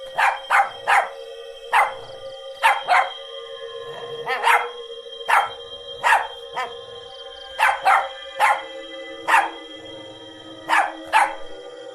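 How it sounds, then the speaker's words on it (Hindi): A dog named Tuffy barks loudly and repeatedly in sharp bursts, often in quick doubles and triples, close by with a steady tone ringing underneath. "फिर टफी वहीं रुक जाता है और जोर जोर से भौंककर अपने साथियों को पुकारने लगता है।"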